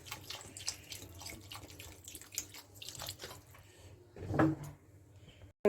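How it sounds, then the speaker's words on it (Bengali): Water is poured into a cooking pan during preparation of a paneer and broccoli dish, a short splashing gush after a stretch of quiet kitchen clatter and small knocks. "এখন আমি জল দিয়ে দিচ্ছি পরিমাণ মতো"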